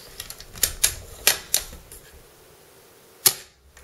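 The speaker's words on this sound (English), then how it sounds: "So I'm just going to cock the gun." Cocking a Tokyo Marui VSR-10 bolt-action airsoft rifle gives a quick series of sharp metallic clicks and clacks, close and crisp, then a final louder snap after a brief pause.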